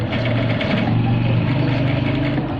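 A sewing machine runs steadily, stitching net lace onto a trouser hem over newspaper, a continuous close whirring hum with no talk.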